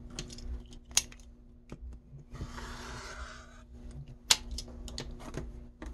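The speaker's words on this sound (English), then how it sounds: "I'm just going to cut these in half right on that center seam." Scissors cut through a quilt fabric square along its center seam, giving a soft, continuous rasping snip of about a second mid-clip amid a few small clicks and handling sounds in a quiet room.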